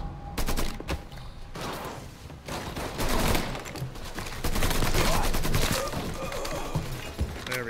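Gunfire rings out in a Mafia 3 shootout, with bursts of sharp, loud shots that come in rapid clusters and pauses, some rattling like automatic fire, all close and echoing.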